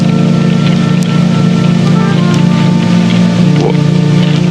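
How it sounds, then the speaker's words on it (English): Steady rain falls continuously in an anime scene, a dense, even hiss of drops that holds at the same loud level from start to end, with no voices. "It's still raining."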